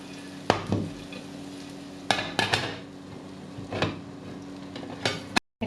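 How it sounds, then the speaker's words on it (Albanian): An omelet with squash and kashkaval cheese sizzles in a frying pan, with several loud clanks and knocks of the pan as it is turned over, close and without talk. "E ktheva omeletën nga ana tjetër."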